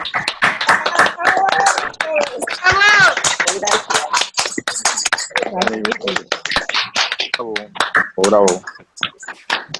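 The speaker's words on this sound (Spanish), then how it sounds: "Vamos a aplaudir a Jairo" Scattered clapping from participants with microphones switched on during an online conference, sharp uneven hand claps mixed with several voices talking and cheering over each other.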